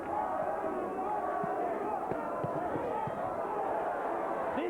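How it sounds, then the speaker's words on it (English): Boxing arena crowd roars steadily through a heated bout between Arturo Gatti and Wilson Rodriguez, a dense continuous wash of cheering and shouting with a commentator talking over it. "Crowd trying to pick Arturo up."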